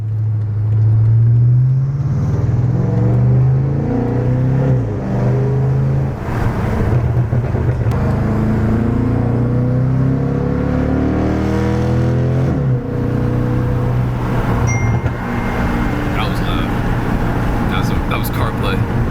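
A BMW 550i exhaust rumbles and revs inside a tunnel, a loud, deep, steady drone with rising pulls echoing off the walls, heard up close and mostly alone.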